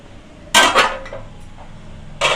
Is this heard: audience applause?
no